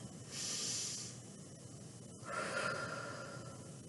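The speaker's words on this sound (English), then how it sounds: "take a deep breath" A deep breath in through the nose, a soft hiss of inhaled air, followed by a slower breath out, close and quiet during a children's yoga session.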